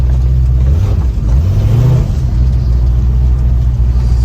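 A 1966 Ford Mustang with power steering accelerates, its engine giving a loud, close, low rumble that rises in pitch through a rev and then settles back into a steady drone, with no talk.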